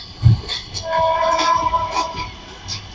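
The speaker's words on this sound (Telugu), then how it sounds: "ట్రాక్ తప్పుతుంది, ఒక పట్టాల సౌండ్ వినపడుతుంది" Train wheels clatter over rails and track switches while approaching a station, a loud, close rumble with a sustained metallic squeal and rhythmic knocks, plus a faint horn-like tone.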